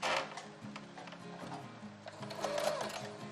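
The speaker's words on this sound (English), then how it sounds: "now you are going to sew this at 1/4 inch" A sewing machine runs steadily through layers of a cloth face mask, its rapid ticking needle close and even throughout, with no voices.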